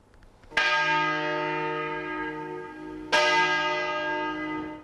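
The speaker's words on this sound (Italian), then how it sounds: "Suonano le campane, quasi a simboleggiare il clima di festa imminente." Two loud strikes of a large church bell in Albaredo, each ringing out and slowly decaying with a rich hum, the second following about two and a half seconds after the first.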